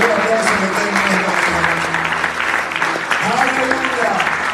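Congregation applause in a church service, loud dense clapping from a full room under a speaking voice and sustained organ or keyboard tones.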